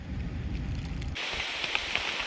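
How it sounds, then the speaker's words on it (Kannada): Heavy rain pours down outdoors, a dense close hiss that shifts abruptly from a deeper drumming roar to a brighter, sharper patter about halfway through. "ಜೋರು ಮಳೆ ಬರ್ತಿದೆ."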